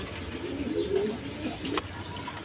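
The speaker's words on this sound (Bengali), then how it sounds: "এখানে এক পেয়ার কবুতর আছে দেখেন, আপনার বিউটি, জার্মান বিউটি, ক্রিমবার কালারের মধ্যে" A pair of cream-barred German Beauty pigeons gives soft low coos at moderate distance, with a brief brighter rustle near the end.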